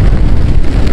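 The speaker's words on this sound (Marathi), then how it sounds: "बघा किती खतरनाक पाऊस चाललाय" Heavy rain pours outdoors at a campsite, a very loud, dense roar of drops pounding nearby surfaces, constant and close with no pause.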